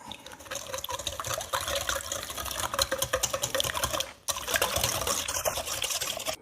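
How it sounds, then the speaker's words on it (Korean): Wet ingredients for a lemon pound cake, including lemon zest and lemon juice, are whisked by hand in a bowl, giving a steady rapid sloshing and clinking rattle that runs continuously, with a brief pause near the end. "휘스크를 이용해서 한번 섞어주겠습니다."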